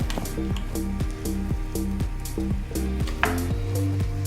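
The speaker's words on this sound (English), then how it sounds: "So in goes the okra." Chopped okra drops into a cooking pot with soft squishy plops and light sizzling. The impacts are close and repeated in quick succession, and no one speaks.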